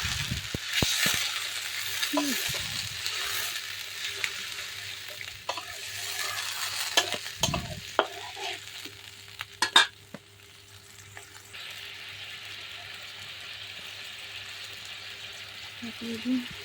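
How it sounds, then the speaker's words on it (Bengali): Ginger-garlic paste thinned with a little water hits browned fried onions in a pan for a meat curry, giving a sizzle that comes and goes amid utensil clanks, stirring knocks and a low steady hum. "পেঁয়াজটা ভাজা ভাজা হয়ে গেছে, এখন এর মধ্যে আমি আদা রসুন বাটার মধ্যে হালকা জল দিয়ে রাখছি, এটা দিয়ে দিই"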